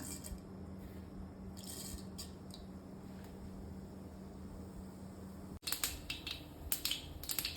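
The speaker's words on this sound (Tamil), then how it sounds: "கடுகு நல்லா உங்களுக்கு முறிஞ்சு வரும்போது" Mustard seeds spluttering in hot coconut oil for a bitter gourd stir-fry, a soft hiss first, then a burst of sharp, close crackling pops in the final two seconds.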